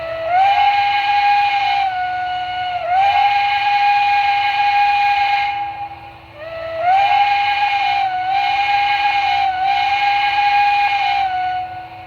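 An MTH PRR Mikado model steam locomotive's quilling whistle blows in long, wavering tones, several blasts with short pauses between, loud and close over a faint hum.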